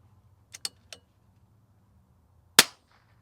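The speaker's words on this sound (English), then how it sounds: "next up is the 18-inch kukri contour ace barrel. We're going to do 10 shots." A single sharp rimfire rifle shot cracks out from an 18-inch Kukri contour barrel, loud and close with a short decay. A few faint clicks of handling come just before it against a low background hum.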